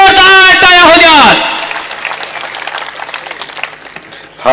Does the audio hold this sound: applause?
yes